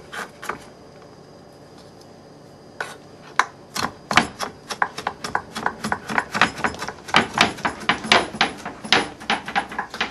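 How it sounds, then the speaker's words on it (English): A knife chops finely on a cutting board in quick, uneven sharp taps, sparse at first and then speeding into a dense, close, loud run. "So we'll just chop that up"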